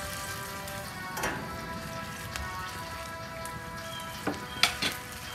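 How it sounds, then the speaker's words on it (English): Beef short rib pieces sizzling in a pan, a soft steady crackle with a few louder sharp pops near the end, fairly quiet, with no talking. "Now we're gonna add some of the beef rib pieces."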